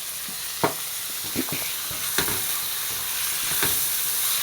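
Chopped tomato and onion sauté in a hot pan, a constant close sizzle broken by several sharp spatula scrapes and taps against the pan.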